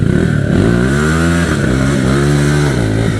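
Motorcycle being ridden close by, its engine droning steadily with rising and falling revs throughout a short, loud stretch, no talk over it.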